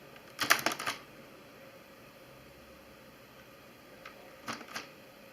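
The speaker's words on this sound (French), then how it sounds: "Vous appuyez en même temps dessus, ainsi que la touche Sup du clavier." Ctrl, Alt and Delete pressed together on a computer keyboard give a quick cluster of plastic key clicks, then a short pause and a second, fainter cluster of clicks, close-up in a quiet room.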